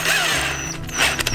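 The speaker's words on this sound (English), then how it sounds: "So I've got the tap set up in my drill" Power drill driving a tap to thread a hole, a short steady mechanical whine with slight grinding and ratcheting texture, close and fairly loud.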